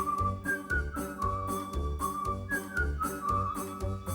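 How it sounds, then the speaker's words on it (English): A whistled melody glides over a rhythmic musical backing with a steady beat, clear and sustained across the whole stretch. "Anytime you want me, you can whistle in this way."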